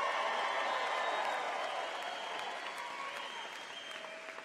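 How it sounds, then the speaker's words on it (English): Graduation audience at a university fall commencement ceremony applauding and cheering, a dense wash of clapping from a large crowd that stays steady and slowly tapers over several seconds. "you can cheer and cheer loudly if you want to"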